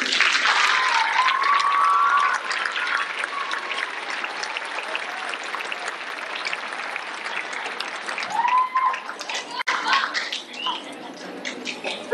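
An audience at a fifth-grade school program claps steadily and loudly, then the applause thins to scattered clapping, with a few voices and rustles mixed in.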